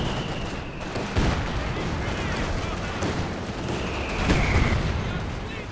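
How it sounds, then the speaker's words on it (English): Frag grenades burst on a Company of Heroes 2 battlefield, two sharp, heavy blasts standing out over a constant rumble of distant gunfire and battle noise. "Oh, frag bombs in the middle."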